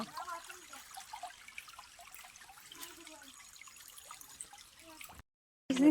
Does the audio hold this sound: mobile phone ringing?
no